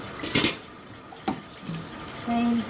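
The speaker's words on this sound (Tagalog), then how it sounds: "Maghuhugas ako ng aking plato." Dishes clatter in a kitchen sink at night, followed by brief knocks and a short burst of running tap water near the end, all fairly close.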